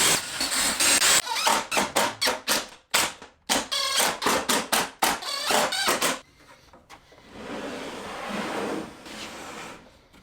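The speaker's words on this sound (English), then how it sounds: "I can drive the screws in from the bottom." A power driver sets screws into a wooden shelf of a pizza oven stand, giving a rapid series of short, loud bursts of whirring and rattling close by, followed by a quieter stretch of softer tool noise.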